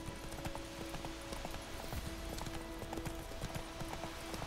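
Horse hooves trotting in the video game The Witcher 3, a steady, rapid clip-clop rhythm of hoofbeats continuing throughout at moderate level with a faint background hum.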